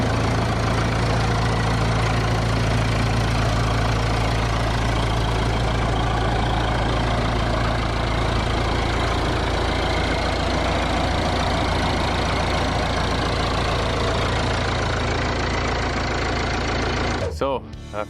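A Massey Ferguson 270 tractor engine runs outdoors at a steady idle, a loud continuous diesel rumble with knocking texture that holds unchanged before cutting off abruptly near the end.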